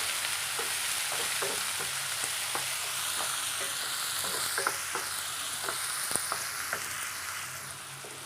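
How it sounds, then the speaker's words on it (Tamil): Steady oil sizzle and crackle of onions frying in a pan for elephant yam fry, with occasional stirring clicks and scrapes, continuous and fairly close, no voices. "வெங்காயம் கொஞ்ச நேரம் எண்ணெயில் வேகட்டுங்க."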